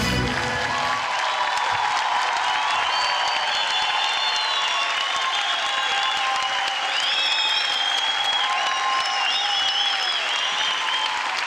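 Sustained applause from a live audience after a stage performance of a Turkish song, a dense, even wash of many hands clapping that rises quickly and holds steady, with faint cheering mixed in.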